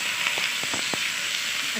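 Chicken pieces sizzle steadily in a small amount of hot oil with garlic, a constant close frying hiss broken by a few faint stirring clicks.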